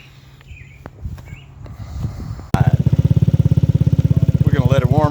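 A 139QMB scooter engine fitted with a longer belt starts up and settles into a steady, fast putter as it warms up, loud and close, after a few quieter knocks and clicks.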